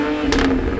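A Toyota Supra sports car engine revs briefly, a quick throaty rise over a steady idle rumble, close by.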